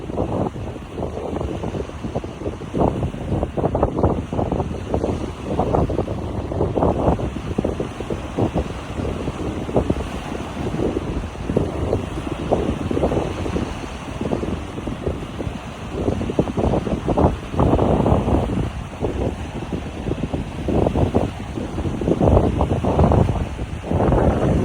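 Strong wind at Lake Texoma buffets the microphone in heavy, low, continuous gusts that surge and ease throughout, with faint water and boat ambience beneath and no voices.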